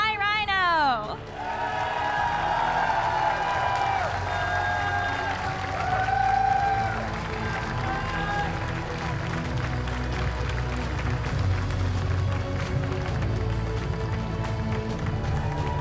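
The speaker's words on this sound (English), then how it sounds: "And finally, a huge round of applause for our 2026 Pokemon Go North America International Champion, PsyRhino." A large crowd applauding and cheering in a big hall at the 2026 Pokémon North America International Championships, sustained clapping that holds steady throughout, with a voice speaking over it near the start.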